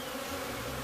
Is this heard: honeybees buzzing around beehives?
yes